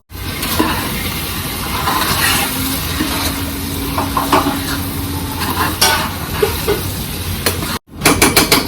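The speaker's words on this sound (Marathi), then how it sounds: "आता मी याला घाटा मारतो आणि याच्यात पाणी टाकतो" Scraping and clinking of a utensil stirring Agri Koli-style dal in a pot, with a soft sizzle and a few sharp metallic knocks.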